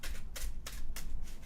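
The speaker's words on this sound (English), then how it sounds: "Let's go ahead and shuffle" Playing cards being shuffled up close in quick riffling bursts, three or four crisp fluttering rounds in rapid succession with no voices.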